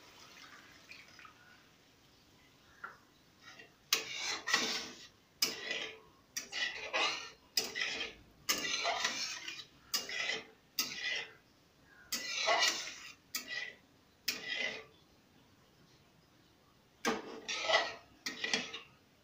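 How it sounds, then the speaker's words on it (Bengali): Ilish curry stirred in a pot, a run of short, distinct scrapes and clinks of a utensil against metal, repeating in uneven bursts, followed by lid handling, close and fairly quiet with no talk. "এবার আমি ভালো করে নাড়িয়ে দিয়ে ঢাকনাটাকে দিয়ে দেব"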